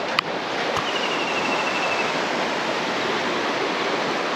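Monsoon waterfalls in Tamhini Ghat roar as a dense, steady rush of falling water, loud and continuous with no pauses, a single faint click near the start.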